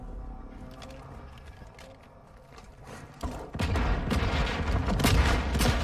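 Rockets and gunfire in a Call of Duty match: scattered faint shots at first, then a burst of loud explosive blasts and rapid fire filling the second half.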